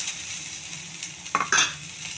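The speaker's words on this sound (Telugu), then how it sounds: "ఉల్లిపాయలు కూడా దోరగా వేయించుకోవాలి." Sliced onions fry in a pan for millet upma, a soft steady sizzle close by, with a couple of brief stirring scrapes partway through.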